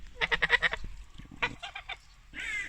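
Several geese honk in rapid bursts, loud and close, with a pause between calls and a harsher, noisier honk at the end.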